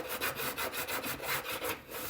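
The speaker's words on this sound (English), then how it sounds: "Grab your bone folder." A bone folder rubs back and forth over the folded edge of a paper card box, giving a quick, steady series of soft scraping strokes, about five per second, close and alone with no talk.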